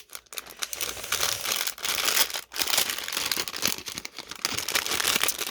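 Plastic wrapper crinkling and tearing open during the unboxing of a China-exclusive Sonny Angel figure, a dense, continuous rustle close up that runs for several seconds with brief pauses.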